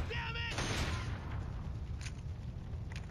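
Gunfire crackles in the Killzone video game on PS3, a faint, distant spray of shots with a sharper burst early on, all set against a steady low rumble of battlefield ambience.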